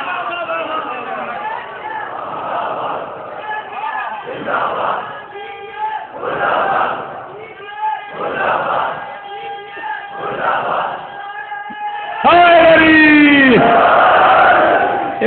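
A crowd at a majlis for Azadaran-e-Hussain shouts religious slogans in rhythmic call-and-response bursts, loud massed voices repeating at regular intervals, then a big sustained roar toward the end.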